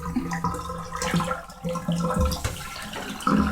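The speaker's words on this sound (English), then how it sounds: "Look at all that lovely manure water going down the drain." Dirty manure-laden water from washing wool drains away, a continuous gurgling, trickling flow near the microphone with a few small clunks, and no speech.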